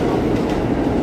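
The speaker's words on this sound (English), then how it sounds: "You hear the subway down there." A New York City subway train rumbles below Broadway at West 28th Street, heard from the street above as a loud, steady roar with no talking.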